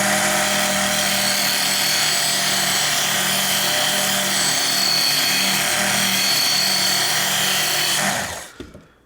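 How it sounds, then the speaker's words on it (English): A Work Sharp belt sander grinds a knife blade with a loud, steady abrasive roar that stops abruptly near the end. "because we're using a sanding belt here and there's a lot more friction"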